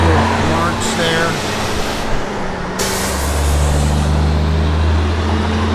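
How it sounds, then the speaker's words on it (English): A 1970 Plymouth Barracuda engine hums steadily at a low idle with a faint air hiss, and the drone deepens and grows louder partway through. "Car sounds good."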